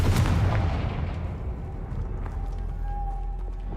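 Confringo spell cast in Hogwarts Legacy: a loud, deep blast opens, then fades into a low rumble with a faint lingering hum.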